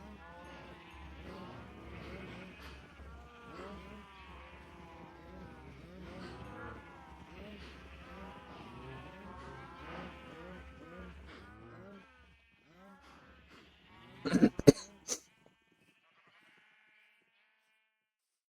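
Cows mooing and sheep bleating in the Minecraft video game, several overlapping calls in a steady stream near a farm pen, then a brief louder burst of game sounds before near silence.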